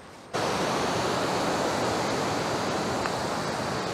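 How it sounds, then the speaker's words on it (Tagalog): Strong rushing water near a shore while camping in Natividad, Pangasinan, a loud, dense, steady roar that starts abruptly and holds close and unbroken. "Ang lakas po ng tubig"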